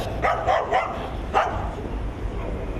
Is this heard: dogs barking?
yes